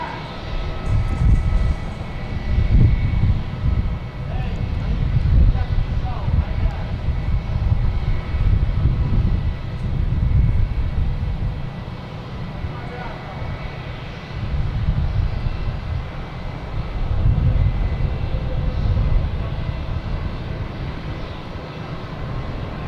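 Airliner taking off at Boston Logan Airport: a steady, heavy engine roar at a moderate distance, rising and falling slightly as it passes, continuous for over twenty seconds with no talking.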